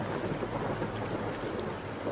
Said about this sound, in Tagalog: Nilusong namin ang malakas na ulan.